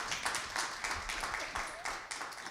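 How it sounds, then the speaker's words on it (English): Scattered audience clapping after a closing panel on energy equity, fairly faint and thin across the stretch, with light background murmur. "A round of applause for this brilliant panel members here."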